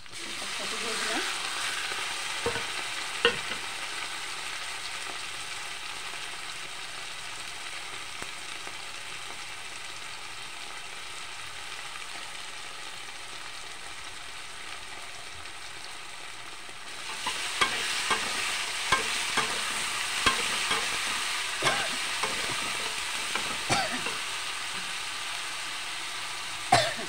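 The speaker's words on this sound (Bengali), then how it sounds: "কিছুক্ষণ ভেজে নেব।" Dried fish and spices frying in a pan give a steady sizzle, louder and busier after a pause as more ingredients go in, with occasional stirring scrapes and a brief throat clearing.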